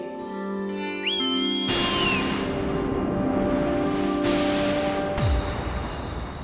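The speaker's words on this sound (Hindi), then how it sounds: "माफी मांगने के लिए सीटी बजाई थी" A whistle is blown in a fantasy TV scene, shrill rising tones cutting in over a busy, loud soundtrack of layered music and effects, sounding close.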